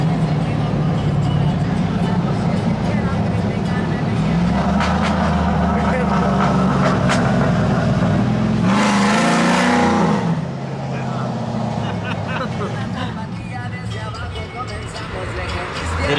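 A Z71 Silverado truck with long tube headers accelerates, heard from inside the cab as a loud, deep, continuous engine drone that swells and then eases, with people talking over it.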